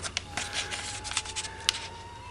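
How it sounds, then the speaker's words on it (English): Paper being folded into an origami four-pointed star, close crisp crinkles and sharp creasing snaps in short bursts, quiet and without talk. "and now fold to the crease marks."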